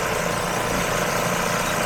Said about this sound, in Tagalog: Ito, double needle namin na makina